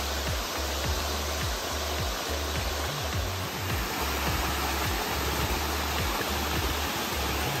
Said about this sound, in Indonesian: Suka ngeliat aliran suara-suara sungai bun.